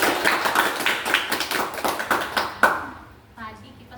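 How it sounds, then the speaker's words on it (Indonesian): Audience clapping at an Indonesian talk session on insecurity, a dense run of hand claps for about two and a half seconds that then fades, with a voice speaking faintly at the end. "kita beri tepuk tangan nih untuk Ririn."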